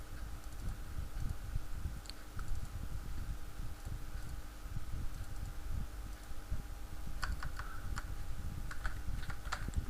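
Steady computer keyboard typing while button text is changed in an ActionScript 3.0 maze game project, a soft continuous patter of keystrokes close by with no talking.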